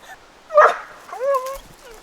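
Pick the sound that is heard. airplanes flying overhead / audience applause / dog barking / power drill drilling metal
dog barking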